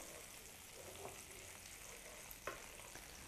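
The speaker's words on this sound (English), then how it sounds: "So basically what we're doing is just letting the pancetta get brown." Pancetta frying and browning in a pan, giving a steady, soft sizzle with a few small pops and stirring clicks, fairly faint and with no talking.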